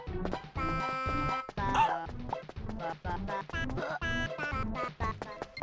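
Spike, the cartoon dog in the Rugrats video game, lets out a rapid run of yips and barks that turns into whimpering, bright game sound effects with no speech.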